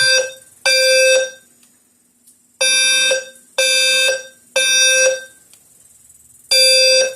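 A fire alarm panel's horn sounds after a pull station is activated, blaring in loud, repeated buzzing blasts with short silent gaps, harsh and close, no talking.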